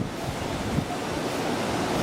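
Ocean surf rolls and washes below a Cancun hotel room with an ocean view, a constant loud broadband roar mixed with wind buffeting the microphone, with no talking.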